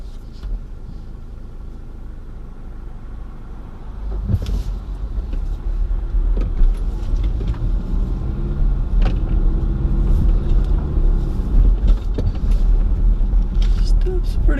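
A 2014 Kia Sportage with newly done brakes rolls along with a steady low engine rumble that swells as it picks up speed, then eases off as it slows to a stop.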